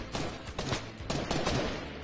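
Sniper rifle shots in a first-person shooter, several sharp loud bangs in close succession against a busy game soundscape.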